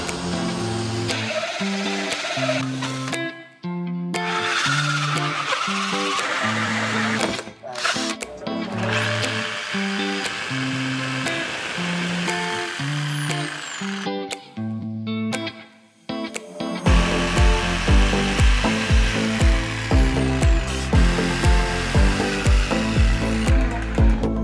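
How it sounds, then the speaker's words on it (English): Terrarium piece being cut with a power saw, the motor revving in bursts with whining tones and stuttering pauses, then a steady rattling, chattering cut toward the end; close and loud. "today we're going to cut this out with a hole saw, a jigsaw"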